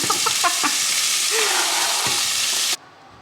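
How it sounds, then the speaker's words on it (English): Butter melting in a pan during weekend meal prep, drained beef nearby, giving a steady broadband sizzle that fills nearly three seconds with a few soft clinks, then cuts off abruptly to near silence. "now I have some butter melting in here"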